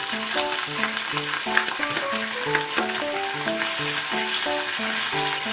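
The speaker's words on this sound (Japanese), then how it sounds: "オリーブオイルでさ、こんな感じでちょっと焼いていきたいと思います" Watermelon slices fry in olive oil with a continuous close sizzle, and a rhythmic tapping of a utensil in the pan runs throughout with no talking.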